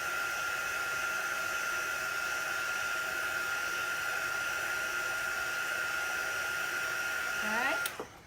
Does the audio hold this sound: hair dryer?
yes